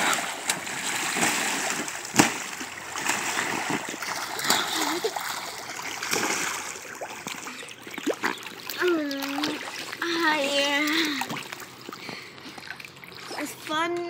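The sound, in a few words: splashing water while cleaning a pool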